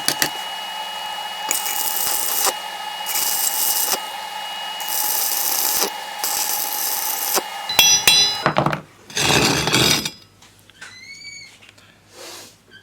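An arc welder spot-welds metal in several loud, crackling bursts separated by short pauses, followed by sharper clanks and quieter shop noise at the end.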